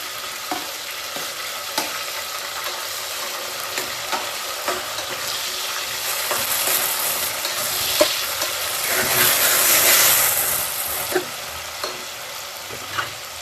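Onion browning in a pan with a tomato added for palak chicken chops, a steady close sizzle with frequent stirring scrapes and a louder hissing swell partway through, no talking.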